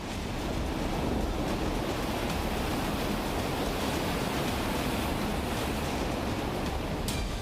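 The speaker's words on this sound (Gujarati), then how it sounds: "પવન સાથે વરસાદને કારણે દ્વારકાના દરિયામાં કરંટ જોવા મળી રહ્યો છે" Rough sea waves churned by wind and rain at Dwarka, a dense continuous roar of surf and gusting air at steady loudness throughout.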